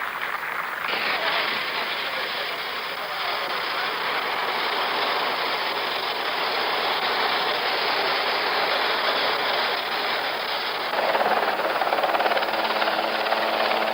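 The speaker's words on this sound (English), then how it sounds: "Then the final helicopter flight as president away from the White House." The presidential helicopter carrying Richard Nixon lifts off and departs the White House after his resignation, a loud steady rotor and turbine roar that holds for the whole stretch and swells slightly near the end, with no talking over it.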